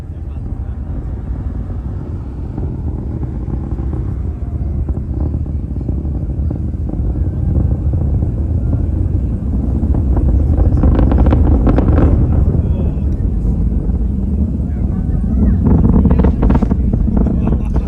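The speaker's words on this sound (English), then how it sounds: "The rumble from the launch pad and the engines." A continuous deep, roaring rumble of Falcon 9 rocket engines at launch that swells louder midway and stays heavy throughout, with a faint voice now and then beneath it.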